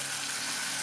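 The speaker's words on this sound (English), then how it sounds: "this is frying now" Shrimps frying in a pan for a spicy Italian tomato sauce, giving a steady, close, even sizzle that holds unbroken throughout with no talking.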